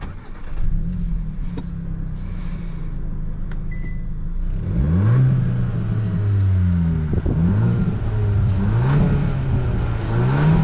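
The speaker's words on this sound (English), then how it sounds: "let's go ahead and take it on a drive and see how this facelifted 2024 Hyundai Elantra" 2024 Hyundai Elantra N Line on a drive, heard from inside. The engine hums steadily at first, then revs up through several rising and falling gear pulls, loud and close.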